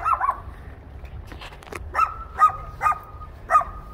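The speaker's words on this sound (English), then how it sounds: "My killer neighbor dog." A neighbor's dog barking in a backyard, with a burst of close, loud barks at the start and then four spaced, sharp barks at a steady pace.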